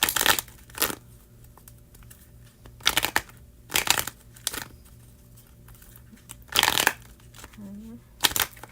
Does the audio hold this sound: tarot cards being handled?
yes